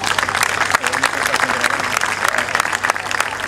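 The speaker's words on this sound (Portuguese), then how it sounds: "Peço para todos uma salva de palmas." A dense, steady wash of audience applause fills a Portuguese ceremony honouring a jury and partners, loud and continuous, with voices murmuring underneath.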